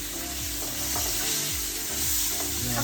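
Curry is stirred in a pan, a steady hiss of frying with repeated scraping strokes of a spoon running throughout; no one talks.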